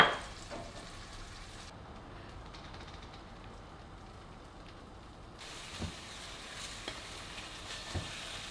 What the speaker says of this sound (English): In another pan, just melt your cheese.